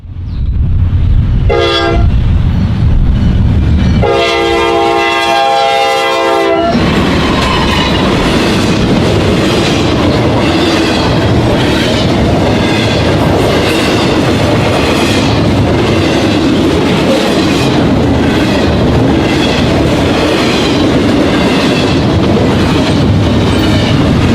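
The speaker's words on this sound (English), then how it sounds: "we caught the westbound intermodal train 205, about a mile from the Indiana and Ohio state borders" A loud Norfolk Southern westbound intermodal freight train rumbles past close by with rhythmic clattering wheels, a horn blast early on, and a warning bell ringing briefly before the heavy rolling noise continues.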